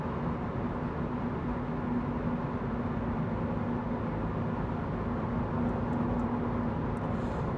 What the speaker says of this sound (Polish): Spójrzcie, jaki w tym samochodzie panuje hałas.